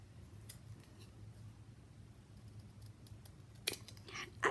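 Scissors snip through craft material for a miniature secretary desk, giving a couple of sharp, close cuts near the end after a quiet stretch of low room hum.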